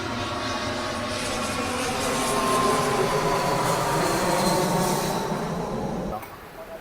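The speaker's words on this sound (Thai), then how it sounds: "เครื่องบินของ Bangkok Airways ก็บินมาตรงนี้แหละนะครับบินตรงนี้แล้วก็บินเข้าไปฝั่งนู้นเลยนะครับ" A Bangkok Airways airliner passes overhead near Chaweng beach on Koh Samui, a steady loud roar that swells and holds for several seconds, then cuts off abruptly near the end.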